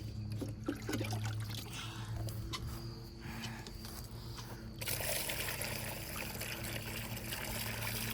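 Water runs into an animal bucket in a continuous trickling stream, then grows louder and fuller at about the halfway point as the flow strengthens, with no one speaking.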